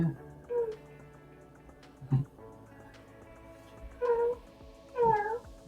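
A pet cat meows several times indoors, short rising and falling cries spaced a second or so apart, the last ones louder and longer, with quiet human talk and small household noises between them.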